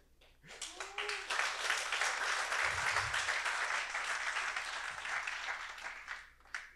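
Audience applause at a RustLab 2019 conference talk on asynchronous networking, a dense steady wash of many hands clapping that swells quickly, holds for several seconds and then fades out.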